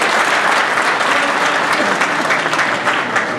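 An audience at an evening community gathering breaks into loud, sustained applause, a dense wash of clapping that carries on steadily with no clear speech over it.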